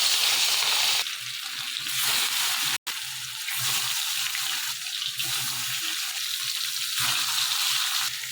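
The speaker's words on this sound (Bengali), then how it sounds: "মাছগুলো তেলের মধ্যে ছেড়ে দিয়েছি, এবার মাছগুলোকে আমি ভেজে নেব।" Katla fish, rubbed with salt and turmeric, fry in hot oil in a wok, giving a loud, dense, steady sizzle that swells and dips in waves, with one abrupt momentary dropout.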